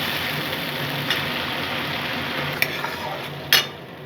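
Mustard paste with green chillies fries in a pan, giving a steady close sizzle with a few sharp clinks of a utensil against the pan.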